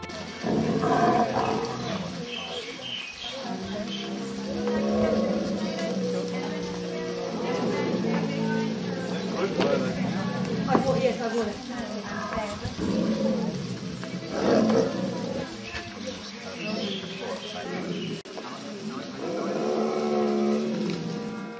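Tiger at a Thai tiger temple giving repeated deep growls and roars in bursts, loud and close, with some layered background noise.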